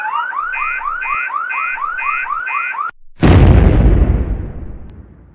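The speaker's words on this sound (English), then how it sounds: "The TNT Fireworks store is going to blow any second." An animated TNT fireworks store blows up: a repeating electronic alarm chirps steadily for about three seconds, then cuts to a sudden loud blast that roars and slowly fades.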